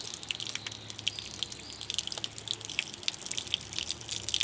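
Water drains out of a scuba BCD in faint, irregular drips and trickles, with small splashes scattered throughout and no voices.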